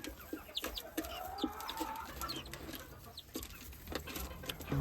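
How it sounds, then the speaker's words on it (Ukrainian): Bantam chickens clucking in a poultry yard, hatched from green eggs, a busy cluster of short overlapping clucks and chirps nearby over a low background rumble. "бентамки, які вилупили з зелених яєць. І нібито дві курочки."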